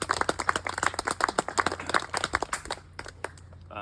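A small group clapping for a community board, a round of quick, close and fairly loud claps that thin out and stop near the end, leaving a quiet room.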